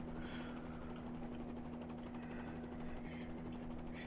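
Bell 47G helicopter engine in Microsoft Flight Simulator, a steady droning rotor and engine hum with a constant low tone, heard alone and evenly throughout.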